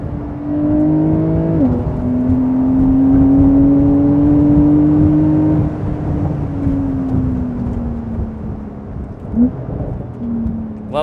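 Flat-six of a 2020 Porsche 911 Carrera revving hard under load, pitch climbing steadily with a quick dip at a gear change, then easing off and blipping again, loud and close from the cabin with no talk.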